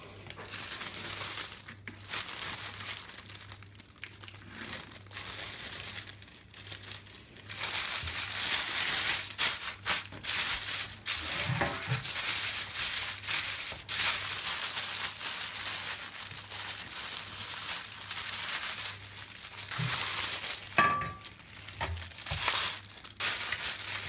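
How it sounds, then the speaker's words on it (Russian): A plastic baking bag crinkles and rustles around a pork brisket, heard up close in repeated bursts of crackly handling that go on for a while, with no talking. "Вот так свободно я распределю пакет."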